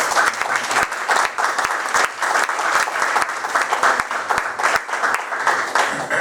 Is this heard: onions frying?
no